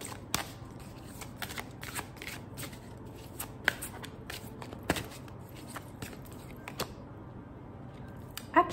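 A deck of Inner Stars oracle cards being shuffled makes close, repeated papery riffles and slaps in an uneven rhythm, with quieter stretches in between.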